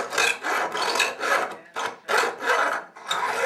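A file rasps along the edge of a wooden board in steady back-and-forth strokes, roughly seven close, loud scraping passes with brief gaps between them, and no voices over it.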